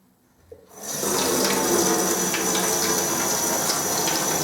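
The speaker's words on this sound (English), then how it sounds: "Now I can just fill up again with clean water." A tap turns on and clean water gushes steadily into a sink for rinsing paint roller sleeves, a loud, continuous splashing rush that fills the space without pause.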